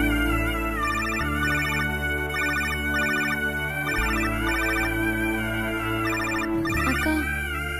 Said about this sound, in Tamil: கௌதம் தான் போன் பண்றாரு.